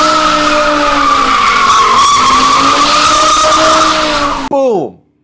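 A cheap V10 BMW fitted with carbon fiber parts driven hard, its tires squealing in a long, loud, sustained skid with a steady high whine, ending abruptly in a brief falling screech.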